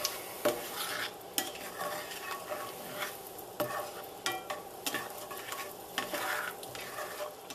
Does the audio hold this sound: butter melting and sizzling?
yes